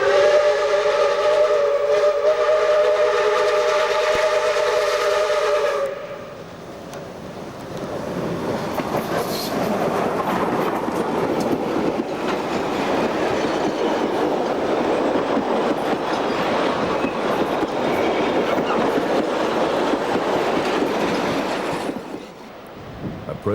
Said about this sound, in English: Steam Ranger's big engine 520 climbs through the Adelaide Hills, heading a special charter to Victor Harbour.